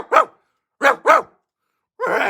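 A person mimics a dog, giving four sharp bark-like yelps: one alone, a quick pair, then a longer rough bark, all close and loud with silence in between.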